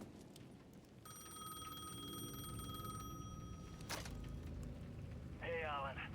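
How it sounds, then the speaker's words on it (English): A payphone rings in the video game Alan Wake 2: a steady electronic bell tone lasting a few seconds, moderately loud over a dense ambient background, with other game noises following. "The payphone at the edge of the plaza was ringing again."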